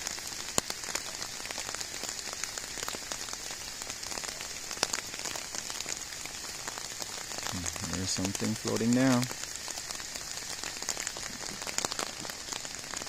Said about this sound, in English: it's expecting to rain like this all week long